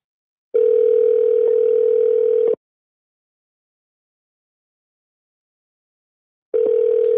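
A phone ringback tone sounds twice, each a steady two-second burst separated by about four seconds of silence, clear and close.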